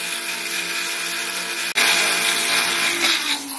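A mixer grinder with a jar spins in a loud, high-pitched whirring grind. It stops for an instant partway through and then resumes, rising slightly in pitch toward the end.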